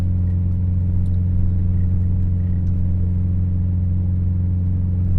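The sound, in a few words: vehicle engine at 3,000 RPM in first gear on snow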